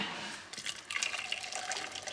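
Boiling water pours over a jar lid to sterilise it, making a short, close splashing and running-water sound that builds after a brief pause, with no talking.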